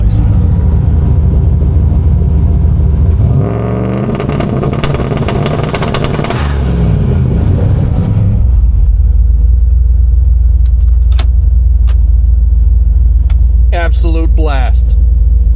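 Engine revving hard in neutral, building to a loud, dense roar for several seconds before dropping back to a steady idle rumble, with a few sharp clicks and rattles near the end.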